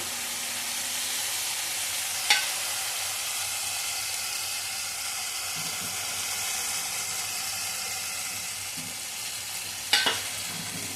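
Spice masala with tomato frying in a pan for chana dal, a steady close sizzle running throughout with two sharp clinks of a utensil against the pan.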